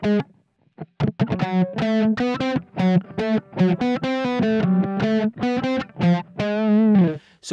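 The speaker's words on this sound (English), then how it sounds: "If we add a little distortion to it, it'll sound a little cooler." A distorted electric guitar plays a fast riff from the Sonic Adventure soundtrack, with quick, punchy notes repeating in a driving rhythm and short gaps between phrases, loud and upfront.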